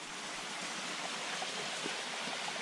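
Waterfalls and a stream in a mountain gorge give a steady, even rush of falling water, continuous and moderately distant with no other sounds.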